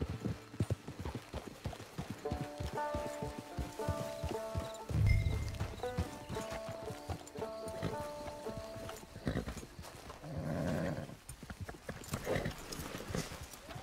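A horse clip-clops along in the video game Red Dead Online, a steady run of hoofbeats under a musical score, with a louder thud partway through and rustling later.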